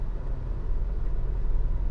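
A Tata Sierra diesel automatic SUV is running, heard as a steady low engine rumble and road drone from inside the cabin, even and moderately quiet, with no talking.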